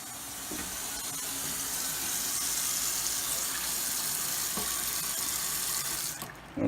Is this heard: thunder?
no